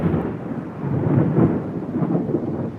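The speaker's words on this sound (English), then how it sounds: "It's just a thunder." Thunder rolls in a steady, loud, low rumble during a storm, swelling and easing over a few seconds without a break, with no voices over it.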